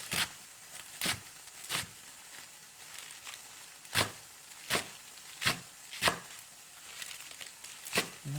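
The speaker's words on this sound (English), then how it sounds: "I'm going to take my leaves and I'm just going to slice them in thin ribbons to begin with" A knife slices kale leaves into thin ribbons on a board, giving about a dozen crisp, sharp chops at an uneven, unhurried rhythm, close and clear with quiet pauses between.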